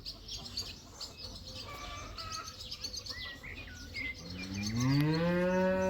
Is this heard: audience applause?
no